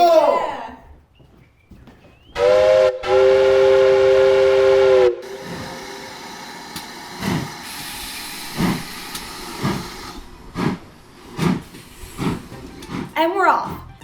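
The John Bull steam locomotive lets out a loud, steady whistle lasting a few seconds as it pulls away from the station, followed by chuffing and rumbling, with people talking and cheering around it.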